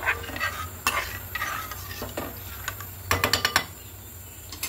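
Cooked red lentils being mixed with raw mustard oil in a pan, giving soft scraping stirs with a few sharp spoon clatters against the metal, fairly close and quiet, no talking.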